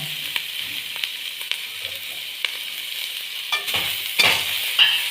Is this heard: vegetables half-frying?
yes